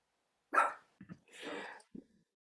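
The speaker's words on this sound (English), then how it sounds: "She's a great girl, but she will bark occasionally." A female dog barks indoors: one sharp bark, then a couple of short yips and a longer, rougher bark-growl, ending in a brief final yip, each clear against a silent background.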